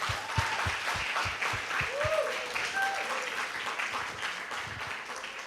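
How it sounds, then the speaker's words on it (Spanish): A church congregation applauds during a service. Many hands clap steadily but at a modest, somewhat distant level, with voices rising faintly above it. "Démosle un aplauso al Señor."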